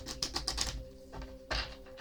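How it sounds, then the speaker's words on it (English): Cards being shuffled by hand, a quick run of crisp riffling flicks followed by a pause and another brief burst, close and fairly quiet with no talk. "I'm just going to go ahead and shuffle them up like this and then cut them."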